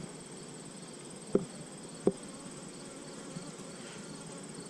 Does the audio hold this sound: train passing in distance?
no